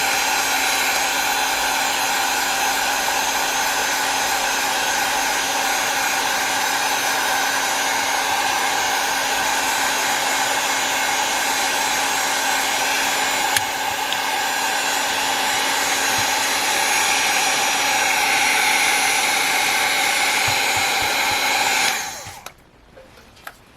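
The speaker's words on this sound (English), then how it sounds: "I'm actually gonna hit it with the heat gun." A heat gun drying a junk journal craft page blows as a loud, steady whirring hiss for over twenty seconds, then cuts off abruptly into near silence.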